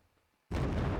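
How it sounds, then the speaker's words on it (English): A fireworks weapon in Garry's Mod PewPew V2 goes off in a single sudden loud burst, a sharp explosive boom that sustains to the end after a near-silent start. "yay, fireworks."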